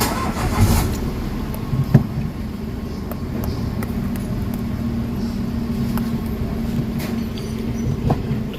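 A Mitsubishi Mirage engine cranks and catches, then settles into a steady low idle that hums close by, with a few faint clicks and knocks over the running motor.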